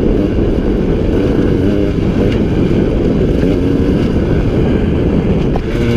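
A 2017 KTM 150 XC W two-stroke dirt bike engine held high on the clutch, a loud continuous buzzing drone with wind roar, steady throughout with no talk.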